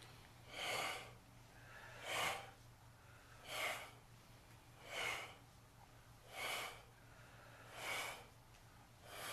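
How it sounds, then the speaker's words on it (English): Slow, steady breaths during a qigong session, six even inhale-exhale swells about every one and a half seconds, close and soft over a low steady hum, with no talking. "Breathe in, breathe out."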